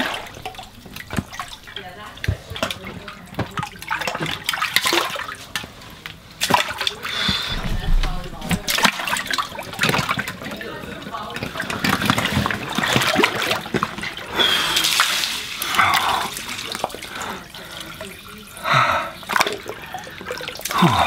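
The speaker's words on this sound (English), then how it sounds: "I gotta go plunge in an ice bath." Water splashes, drips and sloshes in an ice bath as a person plunges in, close and uneven, with bursts of movement and a voice speaking over it.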